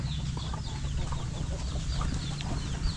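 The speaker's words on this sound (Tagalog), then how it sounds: "Dami nating manok." A flock of chickens cluck and chatter beneath a bamboo grove in a farmyard, with overlapping soft calls throughout and a steady low background hum.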